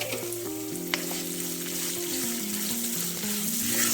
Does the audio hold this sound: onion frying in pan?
yes